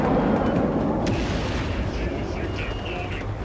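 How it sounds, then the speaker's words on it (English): Heavy airstrike blasts in Just Cause 3 roll into a dense, continuous rumble of booms, loud and sustained across the whole stretch, with a few sharper cracks in it. "Why am I hearing an airstrike?"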